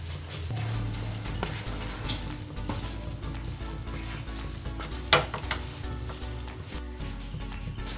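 Green pea mixture stirred and frying in a pan, a steady low sizzle with scraping strokes of a spoon and an occasional clink against the pan, fairly quiet and close.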